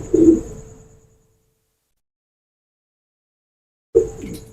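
A Teddy pigeon coos twice, close by: a soft low throaty call, then a long silence before a second coo begins near the end.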